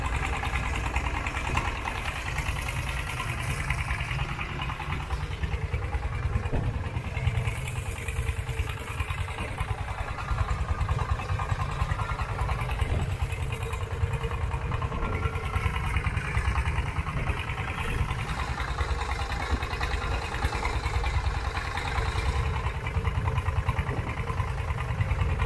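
A boat engine chugs steadily while crossing a river mouth toward a small island, a constant mid-loud motor drone with a rough low rumble and no talking.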